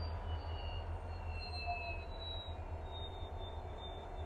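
Low, steady rumble of an Indian Railways train rolling along rails after starting off, with faint high-pitched wheel squeal drifting in and out, continuous throughout.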